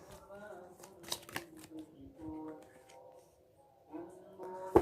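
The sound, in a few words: shuffling tarot cards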